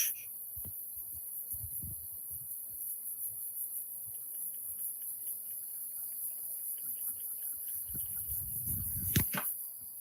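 Crickets chirp steadily at night in a quiet outdoor setting, a faint continuous high trill with occasional low rustles and a louder burst of noise near the end.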